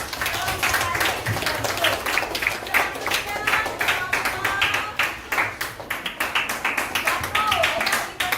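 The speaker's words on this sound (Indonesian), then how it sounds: "tepuk tangan untuk" Classroom applause for students reciting Quran verses during an Islamic education teaching practice session, a steady run of claps from a small group lasting several seconds, with children's voices chattering underneath.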